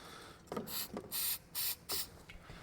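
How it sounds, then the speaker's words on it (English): Several short bursts of aerosol spray lubricant hiss close by on a rusty, sticking UTV tailgate, four or five quick pumps separated by brief pauses, with no talking. "spray lube everything"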